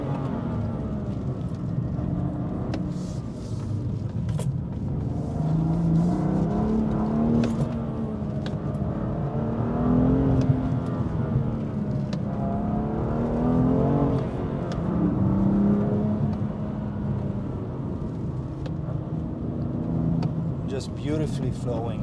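BMW M2 Competition F87 driven at night on winding rally roads, its engine note rising and falling steadily through revs for the whole stretch while someone talks over it.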